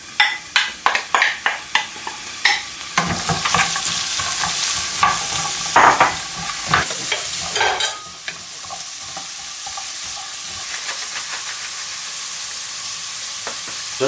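Burdock root fries in a pan while being stirred, with loud rhythmic scraping strokes over the first eight seconds, then a steady close sizzle continuing alone.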